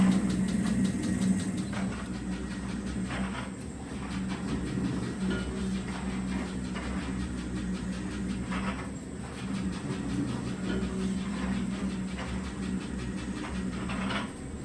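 An SPE82 pallet stretch wrapping machine runs steadily with a continuous mechanical hum and drone, punctuated by faint periodic clicks and whirs from the turntable and film carriage.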